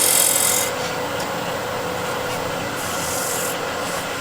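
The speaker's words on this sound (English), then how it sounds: "So here we want to flatten the bottom. I'm using the negative rake scraper" Negative rake scraper shaving the bottom of a wood turning on a lathe, a steady close rasping scrape that runs continuously with slight swells in intensity.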